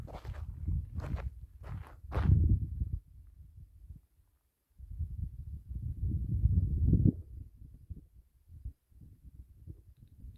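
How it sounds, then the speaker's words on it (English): Footsteps crunching among big boulders in a very quiet rocky place in Southern California, a few close scuffing steps with brief sharper scrapes, a short silent pause, then more shuffling steps, loud against the stillness. "Like my feet walking around sound loud."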